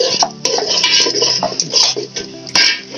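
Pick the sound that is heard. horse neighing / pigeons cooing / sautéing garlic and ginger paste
sautéing garlic and ginger paste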